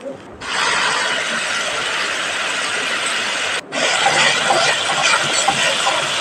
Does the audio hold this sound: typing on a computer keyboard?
no